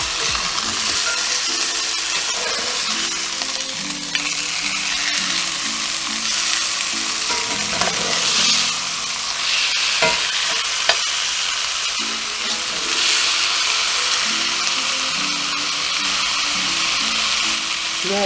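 Chicken breasts stuffed with cheese and green chile sear in a hot pan, giving a loud, continuous sizzle and crackle of frying, with no talking.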